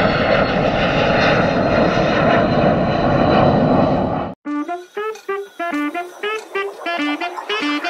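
Steady, loud airplane engine roar from a flight fills the first four seconds, then cuts off abruptly into unrelated plucked music.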